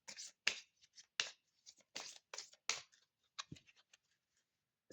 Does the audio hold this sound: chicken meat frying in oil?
no